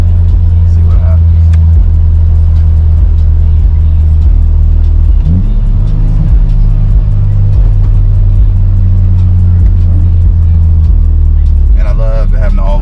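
Mitsubishi Evo 8, all-wheel drive, pulls hard in third gear: a loud, steady engine drone close to the microphone that rises toward the end, with talk over it.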